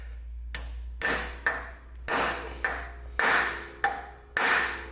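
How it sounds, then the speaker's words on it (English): Repeated hammer blows drive a homemade screw extractor into a stuck part in a repair shop, about seven sharp metallic ringing strikes spaced roughly every half second to second, close and loud with no talking. "Give it a few good whacks."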